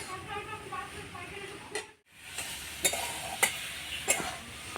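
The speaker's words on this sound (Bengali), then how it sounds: "শাক ভাজা অনেকটাই হয়ে এসছে, আর কিছুক্ষণ নাড়াচাড়া করবো।" Leafy greens frying in a home kitchen pan are stirred, a steady hiss broken by a short gap and a few sharp clinks of the utensil against the pan; a voice speaks faintly at the start.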